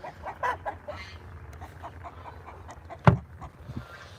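Free-ranging backyard chickens with roosters among them, making a few soft clucks early on and then one sharp, loud squawk near the end over a quiet outdoor background.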